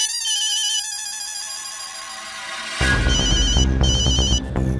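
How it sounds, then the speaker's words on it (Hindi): A phone rings with a call from the boss, a bright electronic ringtone melody repeating loudly, growing fuller partway through, with no talk. "बॉस का फोन।"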